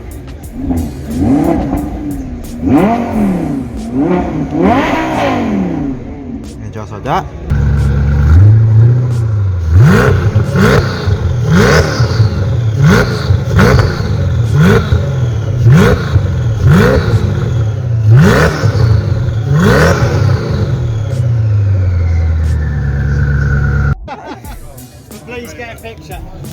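Lamborghini Gallardo Spider engine revving hard in repeated sharp bursts, rising and falling, loud and close from inside the car at a London supercar show, with brief talk at the start and end.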